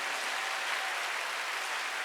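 A church congregation claps together in dense, steady applause, loud and continuous for the whole span with no talking over it.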